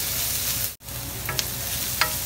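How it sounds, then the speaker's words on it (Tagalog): Ginger sautéing in a pan for Filipino bopis makes a steady close sizzle. The sound drops out for a split second, then carries on with a couple of short clicks from stirring. "lalagay na rin po natin itong ating luya. Lutuin ko lamang po ito sandali."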